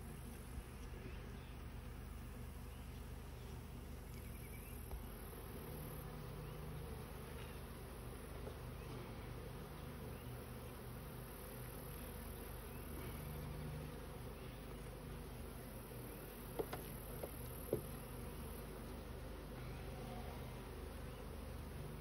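A steady, low droning hum of honey bees in a sparsely populated, queenless hive runs throughout, fairly faint and even, with a couple of tiny clicks.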